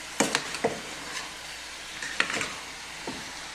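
Chicken curry masala being stirred in a pan, with a series of brief, uneven scraping and clinking strokes over a low sizzle, close by and without talk.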